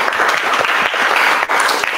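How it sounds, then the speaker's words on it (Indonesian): Classroom applause from a group of students, a steady burst of dense clapping that fills the room for about two seconds. "tepuk tangan untuk Rahma."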